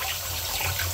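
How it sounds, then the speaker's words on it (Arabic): Tap water runs steadily from a faucet while raw chicken is washed under it, a continuous close splashing gush with no talk. "راني نغسل في الدجاج"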